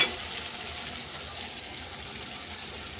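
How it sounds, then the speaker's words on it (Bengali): Water is poured into a pan of rohu fish curry with papaya, producing a steady, close hissing rush and faint sizzle that stays fairly even throughout. "এবার জল দিয়ে দেবো"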